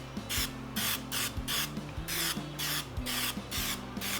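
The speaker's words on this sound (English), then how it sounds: "it's in my misto can, just a little bit of olive oil" Olive oil is misted from a Misto pump sprayer onto chicken wings for a Weber kettle cook, about ten short, close hissing bursts in quick succession over faint background hum.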